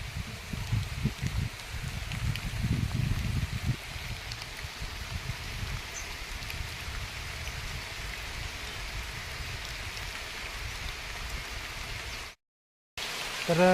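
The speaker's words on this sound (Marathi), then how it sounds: "पाऊस जोरात आला." Heavy rain pours steadily in a village outdoors beneath trees, a dense continuous hiss throughout with stronger low rumbling drumming early on, briefly cutting out near the end.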